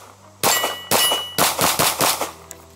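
A compact slide on a full-size frame EDC handgun fires six quick shots at close range, each loud crack followed by a ringing clang of steel targets, with short pauses between them.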